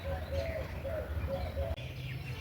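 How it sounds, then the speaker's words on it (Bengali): Mynas, a kind of shalik bird, call faintly at a distance as they come in to feed, with a few short, repeated calls over a steady low background hum. "দেখো পাখিগুলো খেতে চলে এসেছে। এগুলো হচ্ছে শালিক পাখিরই এক ধরনের প্রজাতি।"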